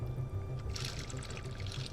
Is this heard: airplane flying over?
no